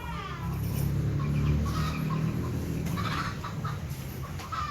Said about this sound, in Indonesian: menjaga anaknya, si ayam ini